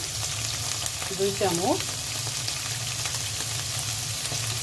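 Cumin and other spices with ginger sizzle in hot oil for a taro and fish head curry, a steady close crackling fry that runs alone under a brief spoken phrase.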